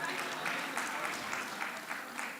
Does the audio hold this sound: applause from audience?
yes